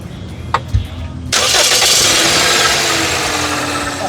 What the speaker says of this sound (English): I'm going to start it and I want you to listen to the engine.